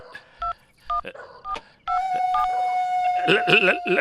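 Several short telephone keypad tones beep in quick succession, then a steady tone rings on as a voice begins over it.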